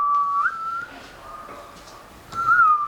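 Two clear, sustained whistled notes, one at the start and another near the end, with a quieter stretch between them.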